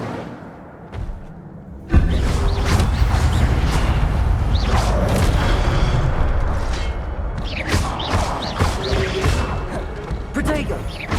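Incendio fire spells cast in the video game Hogwarts Legacy: loud whooshing blasts and fiery bursts crackle over a dense, continuous bed of combat noise, with several sharp impacts in rapid succession after a quieter opening.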